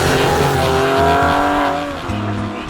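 A Porsche 911 (996) sports car engine roars loudly and steadily, its pitch shifting as it revs, with a dip and recovery near the end.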